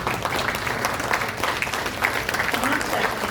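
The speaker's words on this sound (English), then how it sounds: "let's give you a round of applause" An audience applauds hospital staff at a gathering with steady, dense clapping that carries loud and unbroken for a few seconds.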